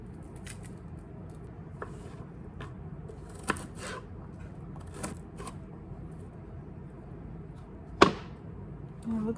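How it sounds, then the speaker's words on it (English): A knife chops vegetables into small pieces on a board, giving sparse, scattered taps with quiet gaps and one sharper knock near the end, soft and close. "I like to cut up my vegetables small."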